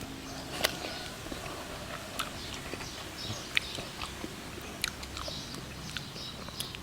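Crunchy bites of chilled young coconut flesh, sharp crisp crackles scattered irregularly over several seconds, close and fairly quiet with no talking.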